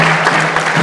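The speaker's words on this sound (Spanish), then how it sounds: "Fuerte los aplausos para ella" An audience at a contemporary music performance at a cultural centre in Tartagal, Salta, Argentina, claps for a performer in a dense, loud, continuous patter of applause.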